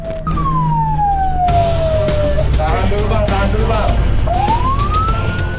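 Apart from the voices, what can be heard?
fire engine siren wailing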